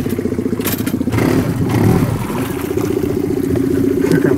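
Outboard motor on a small fishing boat idles with a steady, close, rumbling drone that swells briefly louder, as if throttled, amid weeds on a pike-fishing lake, with no talk over it.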